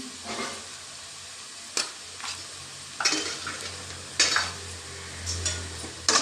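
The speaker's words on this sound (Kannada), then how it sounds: "ಈಗ ಇದನ್ನು ಚೆನ್ನಾಗಿ ಫ್ರೈ ಮಾಡೋಣ ನೋಡಿ ಈಗ ಫ್ರೈ ಆಗ್ತಾ ಉಂಟು" Egg masala frying in a pan with cumin and pepper powder, a soft continuous sizzle broken by several sharp scraping stirs of a spoon against the pan, close and alone.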